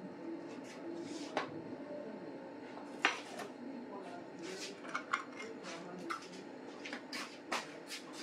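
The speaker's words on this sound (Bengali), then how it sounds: "দিয়ে আমি এটাকে ভালো করে ফেটিয়ে নেব।" Fish fry batter is beaten in a bowl, with irregular utensil clinks and scrapes against the dish close by, under faint background voices and kitchen noise.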